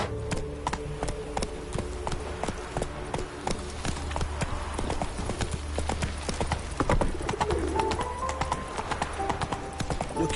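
Roach, Geralt's horse in The Witcher 3, trotting with steady, close hoofbeats that run throughout, over a continuous game ambience and a brief snatch of voice.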